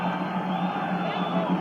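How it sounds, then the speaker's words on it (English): A basketball crowd of about 12,000 fans roars steadily with applause and cheering at a Vanderbilt at Kentucky game, a dense continuous wash of noise with no clear breaks. "And listen to this roar of applause."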